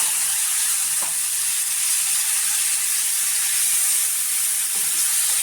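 Spice masala sautés in hot oil with golden garlic, a loud, continuous close hiss and sizzle with only faint stirring taps.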